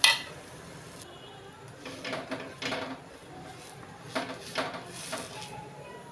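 Moong dal pesarattu being flipped on an oiled pan, with a few soft metallic scrapes and taps of a spatula against the pan spread over several seconds, fairly quiet and close.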